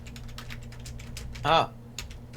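A computer keyboard is typed on during an online webinar, giving a run of soft, rapid clicks over a low hum, with a brief voice sound partway through.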